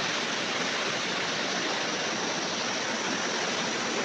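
Water rushes loudly and steadily through a canal headworks regulator on the BRB Canal in Lahore, a dense unbroken roar close by with no pauses.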